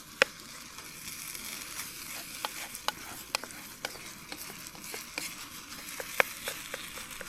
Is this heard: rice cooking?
yes